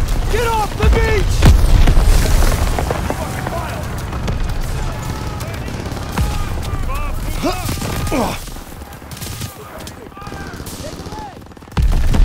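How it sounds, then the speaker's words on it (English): Machine gun fire and battle noise on Omaha Beach in the World War II video game Call of Duty WWII: dense, continuous bursts and explosions under shouting voices, loud throughout with a sudden blast at the end. "These MGs are killing us!"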